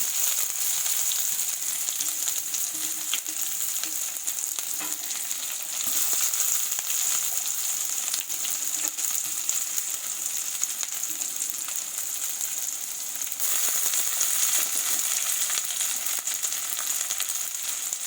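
Potatoes frying in a pan with curry leaves, a steady, close sizzle and crackle running throughout, with no talk.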